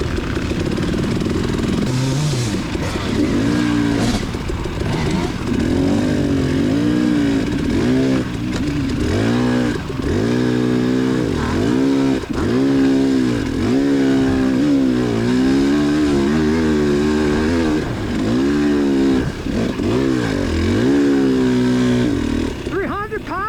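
A 300 cc dirt bike lugging in fourth gear on a high school motocross race track, its engine note rising and falling continuously with loud, close, rough revving throughout.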